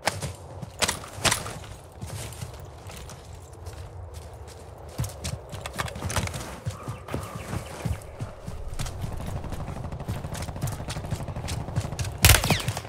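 Gunfire in the Warzone video game: scattered shots and short bursts cracking at intervals, some near and sharp, others more distant, with a loud close blast near the end.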